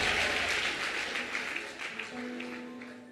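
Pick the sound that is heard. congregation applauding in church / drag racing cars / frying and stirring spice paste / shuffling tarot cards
congregation applauding in church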